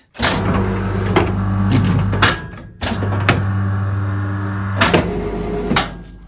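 A bookbinding guillotine trimming the fore-edge of a book runs with a loud, steady mechanical hum in two long stretches, separated by a brief pause and punctuated by clunks and knocks.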